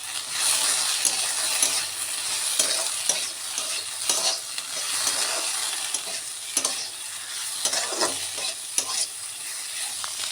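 Potatoes cooking uncovered in a pan hiss loudly and steadily while a spatula scrapes and stirs through them in irregular strokes, close and continuous, with no voices.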